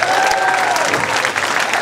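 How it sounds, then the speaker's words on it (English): Brief, dense round of applause from a comedy club audience, steady clapping with no break and only faint voices mixed in. "Let's have a hand for round of applause"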